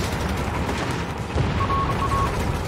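Gunfire in a Company of Heroes 3 battle rattles continuously through a low rumbling din, with a burst of shots and a distant muffled boom layered under steady combat noise.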